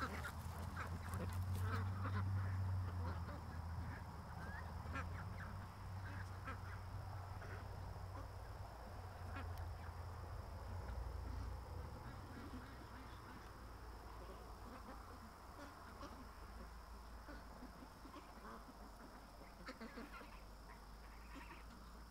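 Ducks quacking in a loose, scattered chorus during a live stream, with intermittent calls over a steady low background hum throughout.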